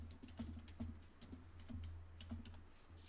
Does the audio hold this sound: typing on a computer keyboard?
yes